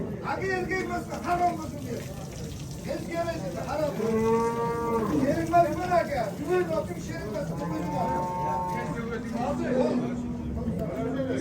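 Several cows moo, long drawn-out lowing calls overlapping amid a busy crowd murmur and people talking at a livestock market in Olmaliq, Uzbekistan.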